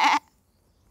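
A person gives one short, nasal bleat imitating a goat, loud and close, which stops abruptly and leaves near silence.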